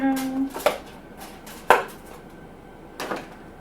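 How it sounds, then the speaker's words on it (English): A knife chopping carrots on a cutting board at home, a few separate sharp chops spaced about a second apart with a faint voice at the start. "Don't you guys want to know how to cut carrots?"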